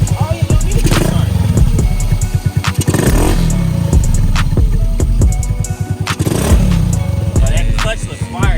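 Honda Navi motorcycle engine firing up and running without a kickstart, a steady close putter with uneven revving and short bursts throughout, with people talking over it.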